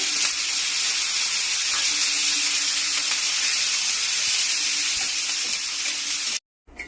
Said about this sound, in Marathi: थोडस तेल टाकून आपल्याला मिरच्या चांगल्या भाजून घ्यायच्या आहेत